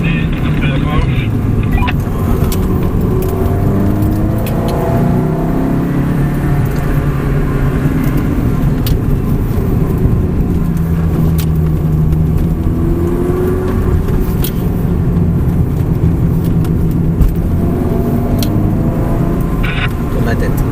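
A Ferrari sports car on a race track roars steadily under acceleration, its engine note rising and falling through gears for the whole stretch, loud and close, with an instructor talking over it.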